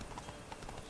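Roach the horse in The Witcher 3 walks in a quick, even clip-clop of hooves, close and clear throughout a short stretch.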